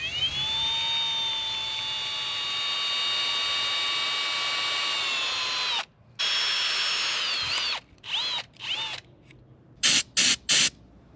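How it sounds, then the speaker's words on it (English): Carb cleaner sprays from an aerosol can into an old Jeep choke cable housing: a long, steady, loud hiss with a whistling edge, followed by several shorter bursts broken by brief pauses. "so I'm going to try a little carb cleaner to soften it up"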